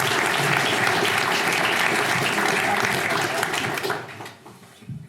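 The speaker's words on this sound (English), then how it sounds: "do a big round of applause for Kim, Deane, and Lou Corrado." An audience gives a big round of applause at a speaker series evening in Rossland, steady dense clapping for about four seconds before it thins and fades out.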